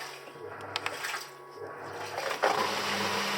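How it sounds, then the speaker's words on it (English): A washing machine's built-in drain pump runs in a camper van, pumping out water with a steady low hum and churning, gurgling water, close and continuous with faint clunks. "it actually has its own built-in drain pump, so it's just pumping out all the water now"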